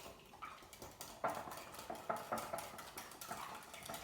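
Breakfast casserole mixture with ground dry mustard and black pepper gets stirred in a bowl, a quiet, quick run of utensil scrapes and clinks against the sides.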